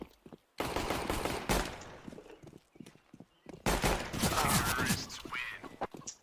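Video game gunfire sounds as bursts of rapid shots that come in clusters, with gaps of quiet between them and faint voices mixed in.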